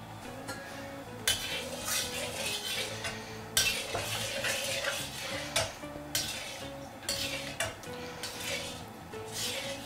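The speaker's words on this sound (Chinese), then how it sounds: "把锅润一下" Oil swirled around a heated wok, with repeated bursts of scraping and clanking as the ladle works the metal over a soft sizzle, fairly close.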